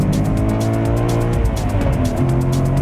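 A supercar engine pulling hard toward its high-rpm limit, loud and close, with rising and stepping harmonic tones as it accelerates and a steady droning roar underneath throughout.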